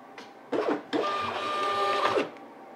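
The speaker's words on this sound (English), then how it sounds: "I'm going to try to print a test page now by clicking here." A thermal label printer prints a test page: a couple of short mechanical clicks and whirs, then a steady, close motor hum for about a second before stopping, with no talk.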